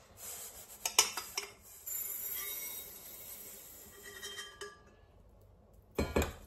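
Roasted flaxseeds are tipped from a hot pan into a bowl, with sharp metallic clinks and scrapes at the start, a soft hissing rustle of seeds in the middle, and a final cluster of clinks.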